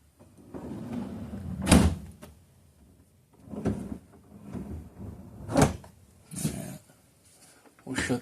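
Drawers and a cabinet door in a 2025 Jayco Seismic toolbar RV are shut, giving several soft knocks and thuds that are spaced out across the moment. A person talks quietly between them.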